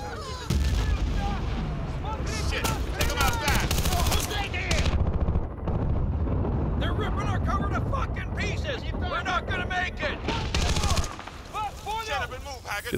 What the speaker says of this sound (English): See all the fucking explosions around us?